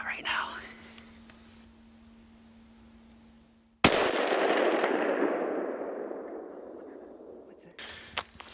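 A hunting rifle shot in the Michigan outdoors rings out once, sudden and loud, then trails off in a long rolling echo. Faint whispering comes before it in an otherwise quiet woods.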